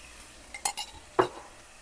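Garlic stirred into drained ground beef in a pan: a few short scrapes and clinks of a utensil against the pan, close and brief, with faint sizzling between strokes.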